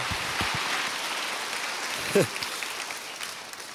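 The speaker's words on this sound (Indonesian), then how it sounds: "Bapak Ibu boleh tepuk tangan buat mereka" Congregation applause at a church worship service fills the space with a steady wash of clapping, fairly soft and diffuse throughout, while a voice briefly speaks midway.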